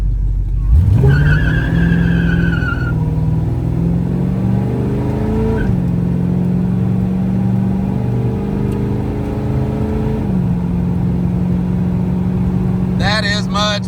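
A 1979 El Camino engine rises from idle into a sustained full-throttle rev, holding a loud steady roar for several seconds before settling, with a brief revving burst at the end.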